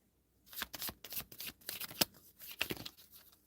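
Oracle cards from a Wisdom of the Hidden Realms deck being shuffled by hand, a run of quick papery riffles and slaps in a close, quiet room, with a sharper snap near the middle.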